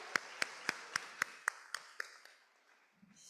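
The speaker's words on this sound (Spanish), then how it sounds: "applause to start our day, get our day going." An audience at a professional learning day claps in unison about ten times in a sharp, even rhythm. The claps fade out gradually and sound faint to moderate in a large room.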